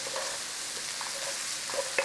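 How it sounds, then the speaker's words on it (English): Chopped onions sizzle and soften in a frying pan, a steady low crackle and hiss with a few faint utensil scrapes from stirring near the end. "A nice little bit of softening on these onions."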